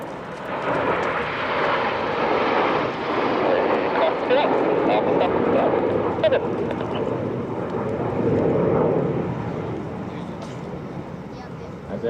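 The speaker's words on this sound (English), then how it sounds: "So the 6 aircraft are running in from the left." A formation of six RAF Red Arrows display jets runs in at an air show, a steady loud roar that rises and falls gently as they pass, with a commentator speaking over it.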